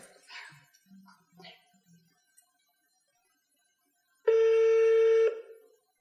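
A short, steady electronic phone tone sounds for about a second after some quiet murmuring and small handling noises.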